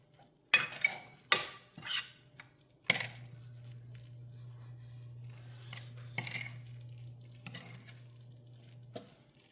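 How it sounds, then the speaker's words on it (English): A spoon scraping and clinking against a casserole dish as ingredients are mixed, several separate close knocks and scrapes spread out over a quiet background hum. "I'm gonna mix it and see"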